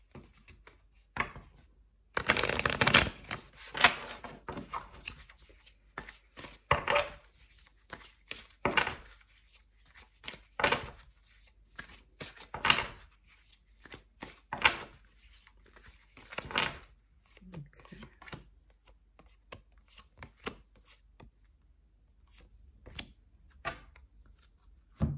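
Hidden Truth Tarot cards shuffled by hand in repeated bursts of crisp riffling and slapping, a long loud flurry near the start followed by shorter, sparser shuffles and taps.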